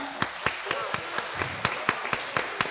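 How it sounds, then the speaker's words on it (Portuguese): An audience at a public policy event applauds, with distinct individual hand claps coming in a fairly regular rhythm over a steady murmur of background sound, fairly close. "Uma salva de palmas, gente."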